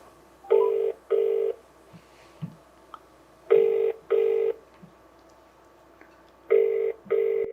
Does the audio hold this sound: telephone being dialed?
yes